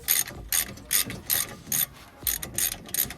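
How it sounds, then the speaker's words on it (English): A Halfords Advanced 1/2" ratchet unwinds a brake bolt on a Ford Focus, clicking in about seven quick bursts of pawl ratcheting, close and crisp, with no talking. "So next up we'll get the shorter Halfords Advanced 1/2" ratchet."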